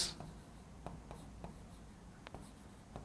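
Pen writing an answer on paper, faint close scratches and small taps scattered irregularly over a few seconds in a quiet room, with a short rustle at the start.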